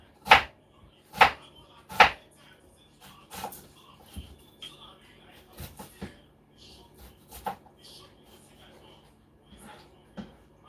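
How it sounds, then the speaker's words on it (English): Onions being chopped on a board while cooking a meal, with three sharp, clear knife strikes at the start and then lighter, irregular cuts, heard close up with no talking. "Let's finish chopping up the onions."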